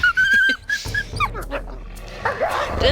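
A wolf in WolfQuest 3 gives off short, sharp yips and whining, whimpering calls over game background sound, loud and close across a few seconds.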